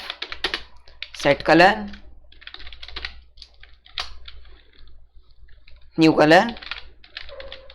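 Typing Python code on a computer keyboard for a paint app: scattered light key clicks in short bursts, heard faintly between and under a man's speech.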